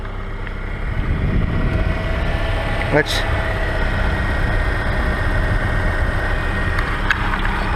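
A Subaru car engine idles steadily after an alternator replacement, a continuous low rumble that holds level throughout with a brief faint click partway through.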